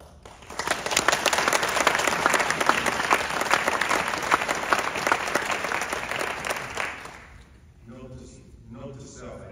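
Loud audience applause for the police chief during a mayor's state of the city speech, dense clapping swelling and holding for several seconds before fading as the speaker's voice returns.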